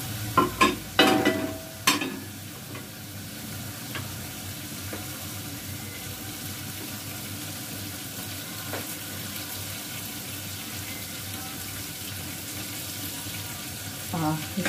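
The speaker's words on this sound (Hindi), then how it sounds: "थोड़ा लहसुन अदरक भून लें" Garlic and ginger frying in a pan, a low, steady sizzle running throughout, with a few louder stirring clatters at the start and again near the end.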